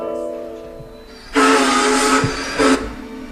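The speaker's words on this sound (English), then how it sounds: "Can I just hear the train at the end, please, which is at just the end of the track?" A steam train's whistle sounds a long hissing blast, then a short second one, over a low mechanical hum, fairly close and loud, as the train stands at the end of the track.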